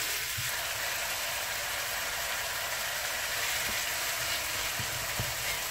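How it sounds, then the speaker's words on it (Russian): Minced meat sizzles and fries in a pan for a meat pie filling, a dense, steady hiss with occasional soft knocks from stirring, heard alone and fairly quiet. "Будем перемешивать и чуть-чуть обжарим"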